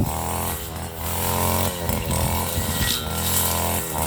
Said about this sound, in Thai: นี่นะครับคนตัดหญ้าของเรา